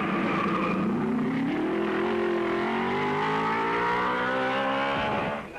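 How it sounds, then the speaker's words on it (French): Vintage racing cars climbing the steep Raidillon bend at Spa during a Grand Prix, engines roaring loud and close with rising pitch as they accelerate uphill, a continuous blaring drone that fades at the end. "Les voitures sont déportées et bondissent au sommet du raidillon."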